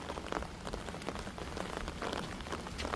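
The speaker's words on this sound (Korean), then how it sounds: "비 많이 오네" Heavy steady rain pattering on a surface during a dog walk, dense and even throughout, fairly quiet with no voices.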